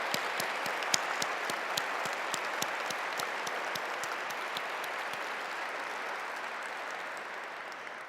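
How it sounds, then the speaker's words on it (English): Sustained audience applause at an advocacy awards ceremony, a steady wash of many hands clapping at moderate distance with a few sharper claps standing out, gradually thinning toward the end. "Let's just give them a round hand of applause."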